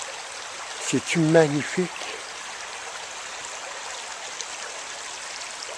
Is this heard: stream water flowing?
yes